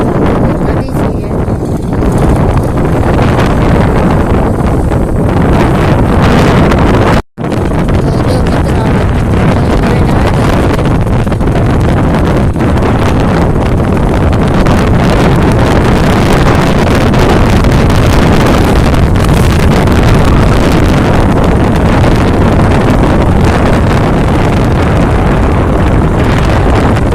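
A tractor driven over a harvested mung bean crop to thresh it makes a loud, continuous engine rumble mixed with heavy wind buffeting that runs throughout, with one sharp momentary dropout partway through.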